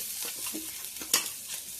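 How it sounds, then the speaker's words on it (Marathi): Ginger, cumin and green chili paste frying in hot oil in a kadhai for a potato bhaji, giving a soft continuous sizzle with gentle stirring scrapes and one sharper clink. "आलं जिरे आणि मिरचीचं वाटण छान परतू द्यायचं"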